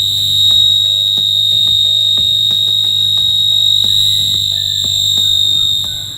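A function generator set to a high frequency drives an amplifier, producing a loud, steady, piercing electronic tone that holds for about six seconds, with faint ticking clicks beneath it and no talking.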